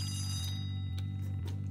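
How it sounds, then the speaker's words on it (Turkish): A bell rings in the video game Hello Neighbor with a steady, sustained electric tone and faint regular ticks beneath it, heard alone and without voices. "Zil çalınacak"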